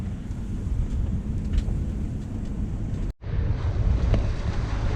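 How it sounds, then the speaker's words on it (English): Northeast wind blowing hard across a microphone aboard a sailboat near the British Virgin Islands, a loud continuous rumble and buffet with water wash underneath, briefly cutting out once. "looks like we got a northeast wind"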